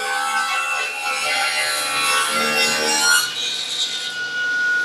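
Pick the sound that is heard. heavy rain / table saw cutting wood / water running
table saw cutting wood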